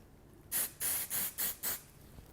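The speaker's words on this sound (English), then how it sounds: "a little spray into my bin again" Five short bursts of aerosol spray onto a stencil held over a bin, close and loud, the last four coming in quick rhythmic succession after a longer first puff.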